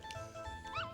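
Short yips and whimpers from a puppy in the Earthworm Jim 2 video game, chirpy and brief, set over a steady game soundtrack.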